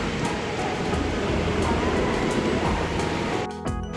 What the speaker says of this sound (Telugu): ట్రైన్ అయితే ఇక స్లో అవుతుంది